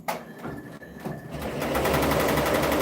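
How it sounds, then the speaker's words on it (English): A multi-head MT-1506 embroidery machine starts stitching, first as a single head's light rhythmic tapping, then building into a loud, dense mechanical chatter as all the heads join in, close by. "this one will start stitching, and then once it catches up, all of them will start stitching"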